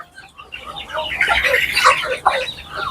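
Many chickens crowded into a small farm enclosure, clucking and chirping close by in a dense, continuous chorus that grows louder after the first half second.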